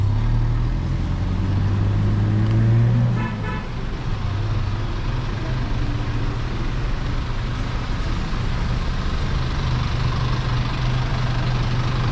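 A car engine idles on a street in Melaka, Malaysia: a steady low hum, close by, with a brief horn-like toot near the start.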